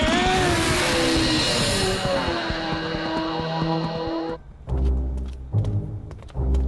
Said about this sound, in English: Here come your vehicles.